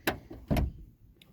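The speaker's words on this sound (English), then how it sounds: "But other than my door check being all clickety" A Jeep Cherokee door with a worn door check clicking as the door swings, two sharp clunks followed by a faint click, close and quiet.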